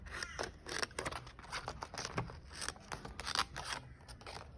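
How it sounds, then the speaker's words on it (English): Scissors snip repeatedly through sticky paper while trimming the edges of a mandala drawing, a quick run of close, crisp cuts and rustles. "And I will trim a bit off the side."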